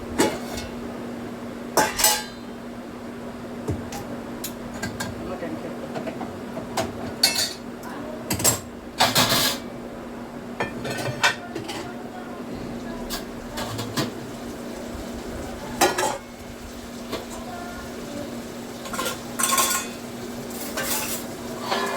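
Dishes, pots and pans are washed with hot water, with scattered clinks and clatters of metal and utensils over a quiet background hum, no talking.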